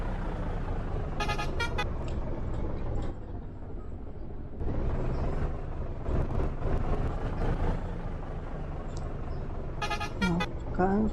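Vehicle horns toot in short bursts amid a traffic jam in a truck simulator game, with engine rumble and road noise underneath and a voice talking at times.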